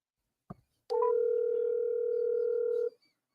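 Telephone dial tone while placing a call: a short click, then a steady, loud continuous tone lasting about two seconds before cutting off, no talk.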